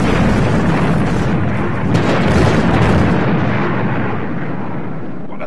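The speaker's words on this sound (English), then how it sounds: "Detonating charges" Detonated charges set off in a toy-model rescue scene go up in a loud, sustained explosive roar that rumbles for several seconds and then slowly thins away as the blast fades out.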